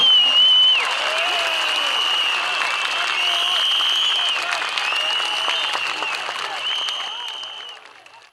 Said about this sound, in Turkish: Kuvvetli alkışlarınızı.